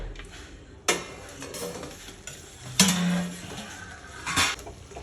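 A cooking pot lid is lifted off while chicken simmers inside, making a few sharp metallic clanks and scrapes against the rim over a low kitchen hiss.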